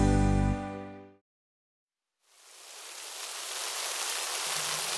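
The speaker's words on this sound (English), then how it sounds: "Aw, it's raining." After a loud musical chord cuts to silence, steady hissing rain fades in and holds at an even, moderately loud level.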